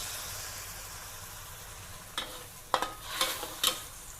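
Pork stir-frying in a pan after a prepared seasoning sauce is poured in, a soft steady sizzle that turns into brief bursts of louder hissing and spatula scraping toward the end, with no voices.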